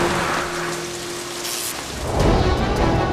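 Heavy hurricane rain pours down as a dense, steady hiss with a deeper rumble building toward the end, loud and continuous with no voices.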